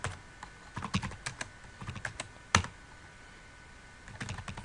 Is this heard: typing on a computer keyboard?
yes